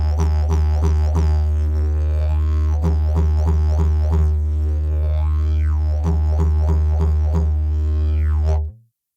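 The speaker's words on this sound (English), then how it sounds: "That same ah drone, just with K's this time. And it'll sound like this." A low, continuous didgeridoo drone carries a rhythm of "ka" tonguing pulses in quick clusters, with occasional sweeping vocal overtones, near and loud until it cuts off.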